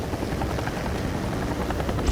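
A firefighting helicopter flies nearby with a steady, close rotor chop and engine drone, a continuous loud pulsing with no voices over it.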